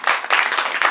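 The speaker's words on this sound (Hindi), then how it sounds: "उसके लिए एक बार तालियां बजाई जाए।" An audience claps together in a brief burst of applause, dense and steady, with pulses of louder clapping through the second.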